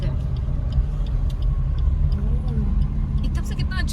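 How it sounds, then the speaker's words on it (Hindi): Car driving along a hillside road near Mashobra, Shimla, heading to park: steady low engine and road rumble throughout, with faint clicks and people talking over it. "तो अभी हम गाड़ी पार्क करने जाएंगे"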